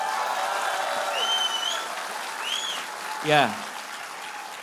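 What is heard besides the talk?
audience applause at a political campaign event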